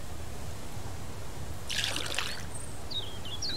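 Water trickles briefly into a container being refilled in the survival video game Mist Survival, a short soft pour of under a second over steady low background ambience.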